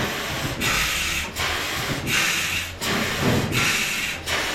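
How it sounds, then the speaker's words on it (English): Steam-powered replica oil well pump at Drake's Well running at about 52 RPM, a rhythmic rubbing, hissing cycle repeating roughly every 0.7 seconds, close and steady with a boiler in the background. "Here's the well itself pumping over there."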